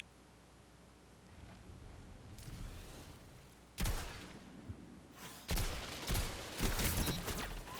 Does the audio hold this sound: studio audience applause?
no